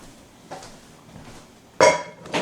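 A pot used to mix ground beef for lasagna clinks with a soft knock, then a louder metallic clank and a final clink, close and distinct over a quiet background.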